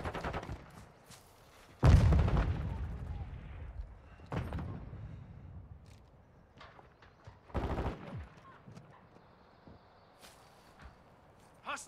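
Sparse gunshots in a Call of Duty match, a loud close shot followed by quieter scattered shots and short bursts, with footsteps and game ambience between them.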